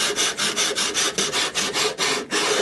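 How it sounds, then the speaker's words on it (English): A 40 grit sanding block is rubbed back and forth along the edge of a wooden guitar template in rapid, even strokes, about ten loud, close rasping passes with no talking. "take a sanding block, this is just 40 grit because that's what's on there, then I'm going to run it along the edge of the body"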